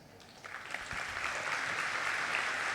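An audience claps for a medical team at the close of a burns lecture at a congress, applause starting lightly and building into steady, moderate clapping from a crowd.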